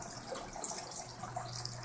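Water running through the plumbing of an aquaponic system, routed along a single pipe, a steady soft trickle and gush close by with no voices.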